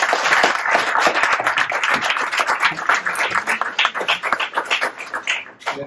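An audience at a gaming afterwork event claps and applauds steadily to welcome a speaker, a dense burst of clapping that thins and fades out at the end.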